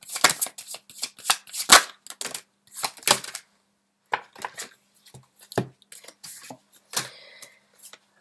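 Tarot cards are shuffled and drawn during a French-language reading, giving irregular bursts of crisp riffling and soft slaps of cards, with brief pauses between handfuls.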